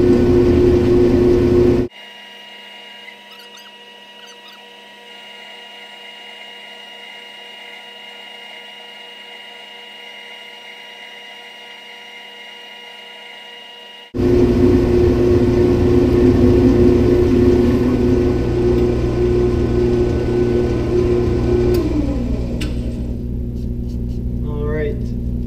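A metal lathe takes a skim pass on a rusty spacer to clean and true it. Steady motor hum and cutting noise drop to a quieter stretch, then return loud and continuous.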